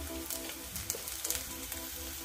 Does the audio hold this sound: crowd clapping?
no